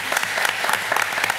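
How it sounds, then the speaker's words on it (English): Applause at a school board of education meeting as a team of teachers is honoured, a short, lively burst of many hands clapping at close range with a few distinct sharp claps standing out. "And just give them a round of applause."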